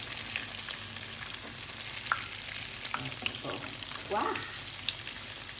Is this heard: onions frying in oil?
yes